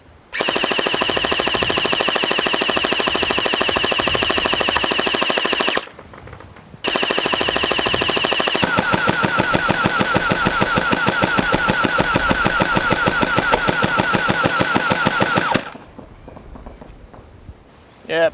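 A Gelstorm gel blaster fires on full auto in long sustained bursts, a rapid buzzing motor-driven stream of shots that stops briefly, restarts, then cuts off, loud and close.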